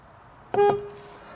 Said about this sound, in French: Concernant les accessoires, nous avons le klaxon.